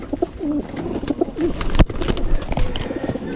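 Pigeons coo in soft, throaty phrases close by, several low rolling calls overlapping with some light rustling and a sharp knock midway, no talking.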